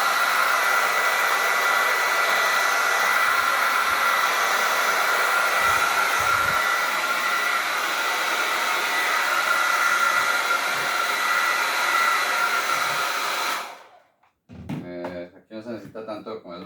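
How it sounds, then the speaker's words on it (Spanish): A hot hair dryer blows steadily at close range, loud and continuous, drying the glued spine of a handmade book, then cuts off near the end, leaving a few soft handling knocks while a person talks. "Y aquí lo que voy a hacer es secar un poco el lomo"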